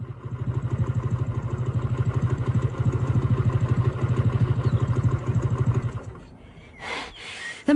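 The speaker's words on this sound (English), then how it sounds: "The motorbike I'm sitting on is a very special one." A motorbike engine idles with a steady, fast low throb for about six seconds, then cuts off, leaving a few brief clattering noises.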